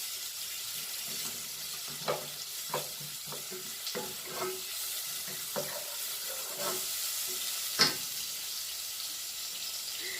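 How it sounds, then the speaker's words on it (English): Onions frying in a pan for cooking green bananas, a soft steady sizzle with scattered sharp clicks and scrapes of stirring, close and alone. "I'm going to fry my onions, my everything here"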